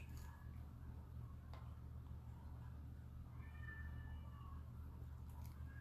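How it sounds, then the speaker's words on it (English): A cat meows a few times at a distance, with faint drawn-out cries over a quiet low hum and soft ticking in a calm indoor setting. "We got cats crying and dogs barking, neighbors knocking"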